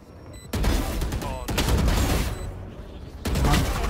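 Bursts of gunfire in the Valorant video game, rapid sustained volleys in several loud blocks with short gaps between them, close and dense.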